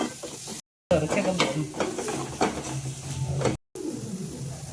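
A spoon stirs sizzling masala for prawn biryani in a frying pan, with scraping, repeated strokes over steady frying hiss, broken by two short gaps.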